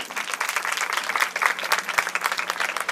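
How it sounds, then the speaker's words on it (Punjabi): Steady, dense applause from an audience at a village women's programme in Badshahpur, Punjab, many hands clapping together at an even loudness throughout, with no voices standing out. "ਜ਼ੋਰਦਾਰ ਤਾੜੀ ਹੋ ਜੇ"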